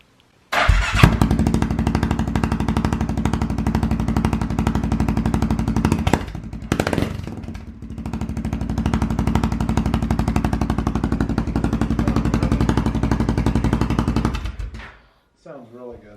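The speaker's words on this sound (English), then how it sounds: "Here we go, Jude's first try with the exhaust" A loud aftermarket exhaust on a 2019 Polaris Sportsman 570 ATV roars steadily for about fourteen seconds with a brief throttle dip midway, then cuts off, leaving faint rustling.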